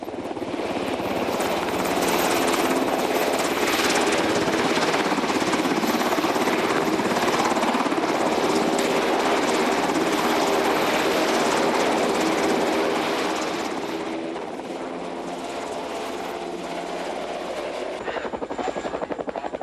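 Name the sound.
UH-60 Black Hawk military helicopter flying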